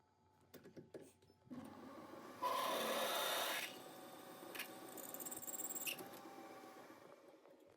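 A drill cutting through a piece of bronze in a workshop, giving a grinding, rasping whir that swells loud for about a second and then settles into a steadier, quieter cutting noise, with scattered clicks before and after.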